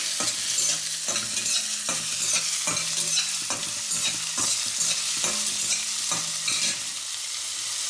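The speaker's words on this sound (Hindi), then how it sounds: "ये हाफ ऑनियन जो मैंने रखा था वो हम डाल रहे हैं छोटे छोटे करके।" Chopped onion frying for chicken bone soup, a steady hiss of sizzling oil with repeated rhythmic scrapes and knocks of a spoon stirring in the pan.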